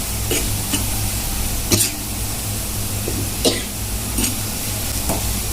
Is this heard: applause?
no